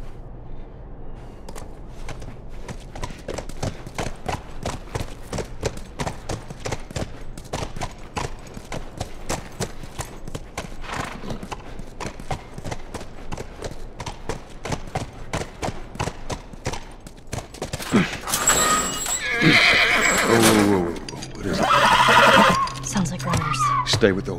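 Horse hooves clop steadily through The Last of Us Remastered, set at the university, and then loud whinnies and snorts break out near the end. Game voices and ambience run underneath.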